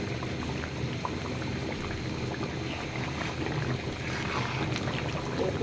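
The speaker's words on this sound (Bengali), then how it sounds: "জোরে জাল দিয়ে দিচ্ছি, টকবক টকবক করে ফুটে আমার হাতে আসতেছে" Mustard oil with pickle spices, cooked over high heat for an olive pickle, boils and bubbles in a pan with a steady, dense sizzle and crackle that carries on throughout, close up and without talk.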